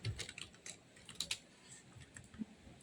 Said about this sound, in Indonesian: kemudian ketik alamat seperti biasa saja